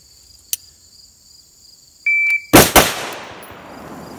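Two loud rifle shots fired in quick succession at a target on a range, preceded by a faint click and a short electronic beep, with the sharp reports decaying into a noisy tail.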